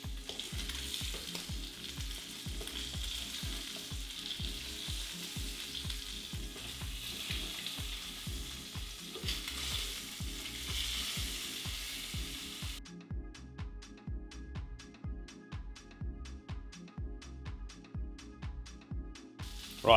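Salmon frying in a pan, a soft steady sizzle with gentle rhythmic crackles and pops, fairly quiet and close, no one speaking.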